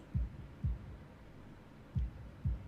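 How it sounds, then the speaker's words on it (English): A heartbeat sound effect from the visual novel game Katawa Shoujo thumps as low, soft double beats at a slow steady pace over a quiet hum. "holding my breath in an attempt to hear my heartbeat."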